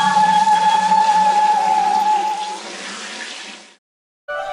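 Turmeric water pours in a steady, splashing stream that gradually thins and stops, followed by a brief silence before another splash begins.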